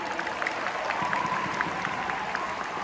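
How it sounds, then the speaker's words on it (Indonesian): Audience applause at a Kejurda Bali 2025 Kelatnas Indonesia Perisai Diri martial arts championship, a steady, moderately faint patter of many hands clapping that runs evenly throughout without a clear end. "Tepuk tangan."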